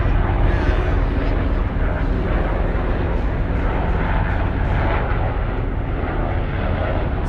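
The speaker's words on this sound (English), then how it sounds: "Right now we got some Army helicopters flying over" Army helicopters fly overhead, making a loud, steady, broadband rumbling roar that fills the whole stretch with no break, heard outdoors and close.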